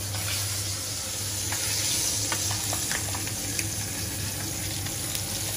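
Chicken frying in really hot oil, a loud, constant dense sizzle close by with small crackles popping through it.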